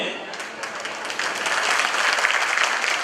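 Audience clapping at a community reunion gathering, a broad steady wash of applause that swells slightly in the second half and continues throughout.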